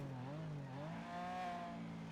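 A supercar in GTA V on the NoPixel roleplay server accelerating, its engine note rising and falling through gear changes in a smooth, moderately quiet revving whine.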